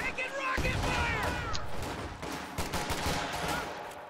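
Video game battle with rapid gunfire and rocket fire, dense crackling shots and bursts throughout, with shouted voices at the start.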